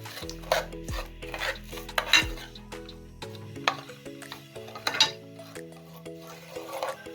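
Semolina and oil are stirred in a pan for halwai-style suji halwa: repeated scraping strokes of a utensil against the pan, with a few metallic clinks and a faint sizzle underneath.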